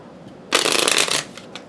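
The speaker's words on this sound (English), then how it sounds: "we're going to pull a few of these magic cards" Tarot cards riffle in a quick shuffle, a dense crisp flutter about seven-tenths of a second long that cuts off sharply in a quiet room, with a few faint card taps afterward.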